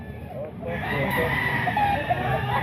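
A rooster crows loudly and close among chickens at a market selling fighting cocks, the long crow held over a busy background murmur of people talking.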